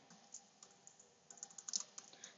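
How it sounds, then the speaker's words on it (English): Faint typing on a computer keyboard, scattered clicks at first and then a quicker burst of keystrokes, soft and close with no voices. "and then typing in the name you want, pressing enter."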